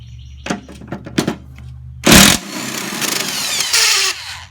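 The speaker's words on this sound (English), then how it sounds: "We got to take the 3 bolts out that hold the spindle in." Power tool loosening the three spindle bolts on a Craftsman 42-inch mower deck: a few sharp clicks and short knocks, then a loud, close burst of high-revving whine that drops into a steadier buzzing run with one more surge near the end.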